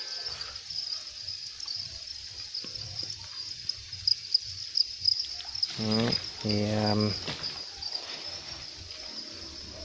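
Crickets chirp steadily in the background of a cricket farm, with someone talking over them and a couple of short harmonic bursts partway through.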